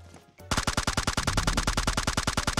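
Rapid automatic gunfire in the mobile battle game PUBG Mobile, a fast evenly spaced burst of loud shots that begins abruptly after a brief quiet moment and keeps rattling to the end.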